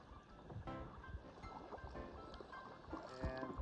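Kayak paddles pulling through calm water with splashy, irregular strokes, close by, as beginners paddle together; a voice talks faintly underneath.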